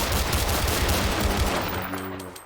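Rapid video game gunfire in a loud, continuous burst that thins out toward the end, with no talk over it.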